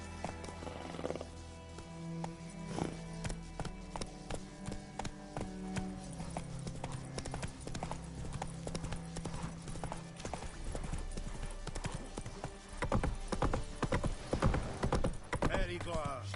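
Hooves of a horse trotting and galloping in The Witcher 3 video game, continuous clip-clop growing louder and faster near the end, with a brief whinny, under game music and occasional speech.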